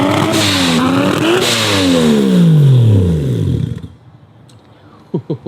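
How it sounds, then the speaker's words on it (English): Mazda RX-7 rotary engines in a hangar collection, loud close revving that climbs, dips and rises again before cutting off abruptly, followed by near quiet and a few short sharp pops. "We got a symphony of rotary sounds behind us."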